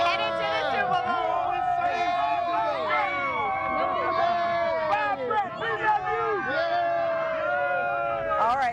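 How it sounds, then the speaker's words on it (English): A crowd of Saints fans inside the Superdome after the NFC title game, a dense roaring mass of cheering, whoops and shouting voices that fills the space continuously and stays loud throughout. "you cannot get better than this crowd at the Dome"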